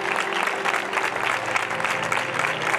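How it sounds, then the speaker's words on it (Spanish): Applause at the coronation of the Facinas fair, a steady crowd of clapping hands throughout, with a faint hum beneath. "Aplauso para ellos."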